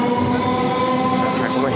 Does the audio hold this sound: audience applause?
no